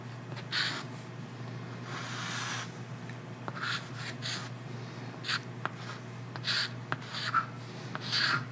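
Pen scratching across paper while a math problem is worked out by hand, in short bursts of strokes separated by brief pauses, close and moderately loud over a steady low hum.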